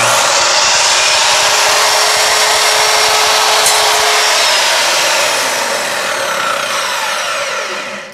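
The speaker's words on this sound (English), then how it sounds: "So the first thing I have to do is give the very end the miter cut." A power saw makes a miter cut through wood for a light box, giving a loud, continuous high whine that holds steady and then tapers off as the blade finishes.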